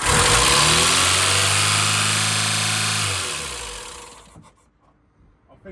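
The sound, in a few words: VW Golf MK2 1.6 engine starting up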